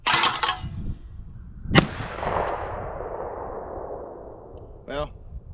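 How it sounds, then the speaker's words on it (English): Stoeger M3020 semi-automatic shotgun fires a sharp, loud shot that rings out with a long decaying echo outdoors, action cycling and ejecting a shell, a voice talking at the start and end. "The second shot ejected the first shell and cycled the second one just fine."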